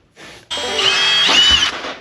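A power drill working on a 1966 C10 whirs up to speed with a high buzzing whine and strains briefly before winding down, close and loud.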